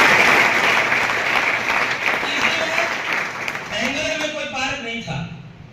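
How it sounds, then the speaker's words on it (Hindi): Audience applause at a school academy program in India, loud and sustained at first, then thinning and fading as a voice begins speaking over the tail end. "इसके लिए भी आप जोरदार तालियां"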